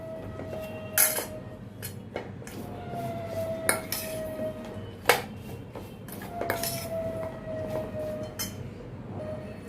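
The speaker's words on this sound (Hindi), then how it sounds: "सभी मसालों को मैं भिंडी में अच्छी तरह से मैं मिक्स करती हूँ।" Okra (bhindi) is tossed with spices in a bowl, the utensil scraping and clinking against the bowl in steady strokes with a few sharper knocks, close and moderately loud, with no talking.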